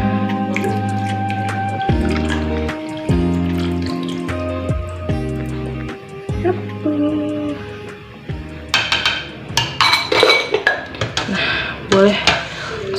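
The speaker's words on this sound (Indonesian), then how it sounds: "Langsung diaduk." A spoon clinks against a glass of basil-seed lemon drink, scraping and tapping irregularly, then stirring quickens into sharp, rapid clatters near the end, close and loud.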